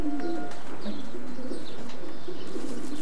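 Racing pigeons coo in a loft, several low throaty calls repeating close by over a steady murmur of birds, with a few faint chirps and rustles.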